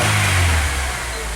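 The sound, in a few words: Acura TSX engine revving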